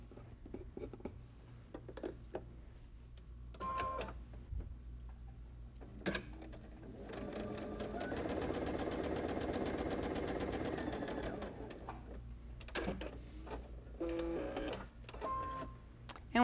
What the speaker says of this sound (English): take it over to the machine and stitch it